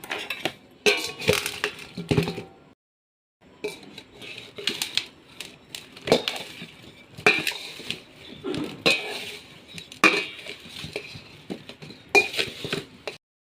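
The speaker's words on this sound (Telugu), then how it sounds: "ఫస్ట్ ఈ సాల్ట్ యాడ్ చేసుకున్నాము ఇది మెత్తది బాగా కలుపుకోవాలి" Mango pickle pieces are mixed with salt in a bowl for spiced avakaya, heard as irregular bursts of clinking, scraping and crunching with a short pause partway, close and moderately quiet.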